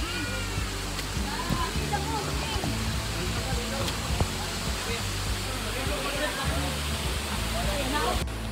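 Aguinid Falls in Oslob, Cebu roars in a constant, loud, broadband rush of falling water close by, with voices talking over it.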